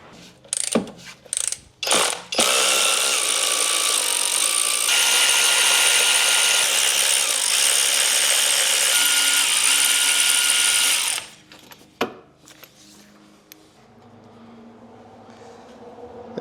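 After a few short mechanical bursts, the engine of a long-unrun 1979 Volvo 242GT cranks over with a harsh whirring grind for about nine seconds without catching, then stops.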